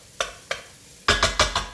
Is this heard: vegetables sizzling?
yes